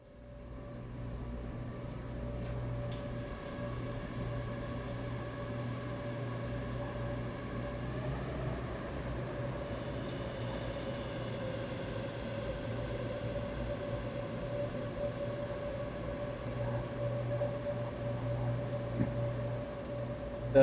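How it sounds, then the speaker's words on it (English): A steady laundromat drone with low humming tones and a broad wash of noise, smeared by a huge, long reverb into a continuous ambient hum. "What does this crazy laundromat sound like with a huge Final Frontier reverb?"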